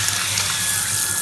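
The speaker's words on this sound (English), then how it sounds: "Okay, let's go over to the shower and see if we can turn it on." A shower freshly turned on runs steadily, a constant broadband hiss of spraying water close by, with no speech over it.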